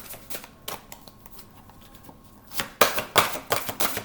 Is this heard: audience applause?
no